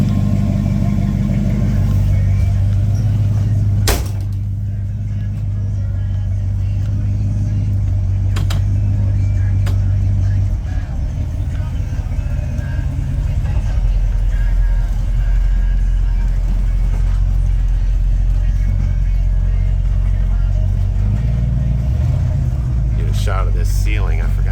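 A 1953 GMC panel truck on a test drive, its engine a loud, low rumbling drone that shifts in pitch as it runs, with a few sharp clunks and knocks along the way.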